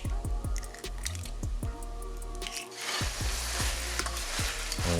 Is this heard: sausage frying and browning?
yes